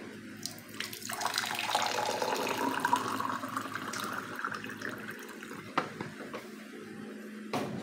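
Hot water runs from a tap in a continuous splashing stream for ginger lemon tea, close and moderately quiet, with a few clinks near the end.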